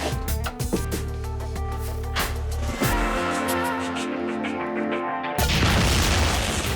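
Dramatic music plays in a TV drama scene, then a deep, loud explosion booms near the end and rumbles on as broad noise.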